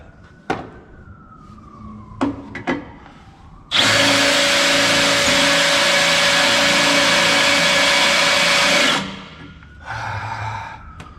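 A loud power drill runs steadily for about five seconds with a high whine, preceded by a few short clicks and knocks and followed by faint rustling.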